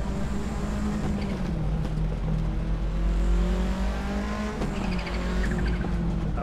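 A car engine drones in a VR sim racing game, rising and falling through the revs as gears change, with a deep constant rumble and a brief squeal partway through.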